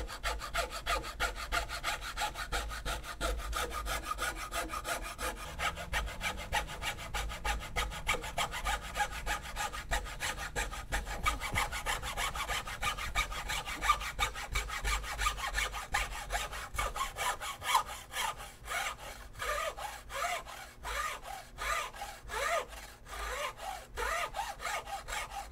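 Hand saw cutting through the wooden stock of a 1903 Springfield rifle, a steady run of close, rhythmic rasping back-and-forth strokes lasting throughout with no talking.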